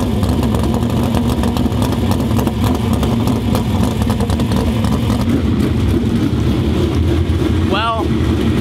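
A sprint car engine warming up in the pits at Caney Valley Speedway, a loud continuous raw engine roar with a brief rising rev near the end and a voice talking over it.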